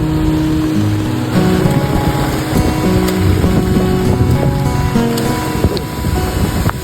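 Strong typhoon wind roars steadily and loudly near the microphone, a dense continuous rush with gusting surges and no voices.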